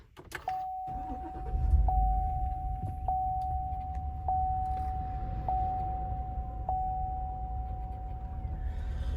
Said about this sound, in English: we'll go ahead and put our foot on the brake and hit the button to start